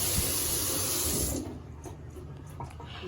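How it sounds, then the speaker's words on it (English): Hands being rinsed under a running kitchen tap, a steady close hiss of flowing water that cuts off after about a second and a half, leaving faint drips and small splashes in a quiet room. "I'm gonna rinse out my hands again."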